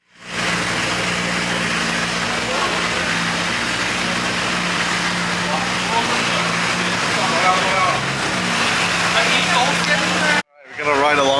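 Interior of Vince's Mitsubishi Evo 9 at a Singapore night car meet, a steady loud engine drone with a low hum running continuously under chatter, cutting out abruptly near the end.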